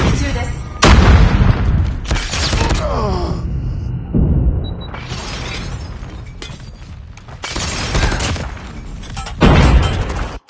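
A grenade exploding in Call of Duty Mobile: loud booming blasts and shattering bursts come in several separate hits, mixed with in-game clatter and effects.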